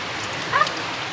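Rain falls as a soft, steady hiss with a faint chirp in the middle, a short even wash of sound.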